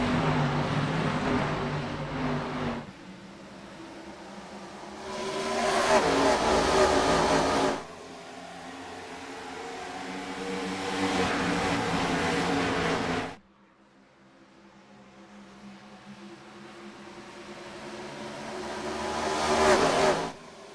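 Race cars roaring past on a Nashville track in a racing simulation, engines rising and falling in repeated passes, loud buzzing surges separated by quieter stretches.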